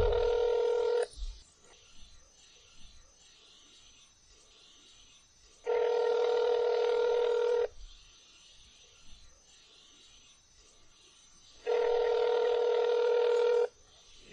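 An outgoing phone call rings unanswered in a podcast setting. Three evenly spaced ringback tones each last about two seconds, with quiet gaps between them and faint background voices.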